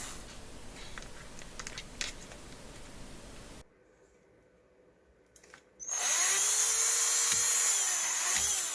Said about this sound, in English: I'm using a 2mm drill bit